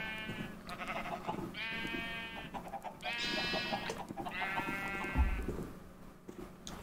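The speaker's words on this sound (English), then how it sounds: "We have a baby gray sheep." Sheep in a video game farm bleat three times in a row, drawn-out wavering calls at moderate volume over a quiet, slightly busy background.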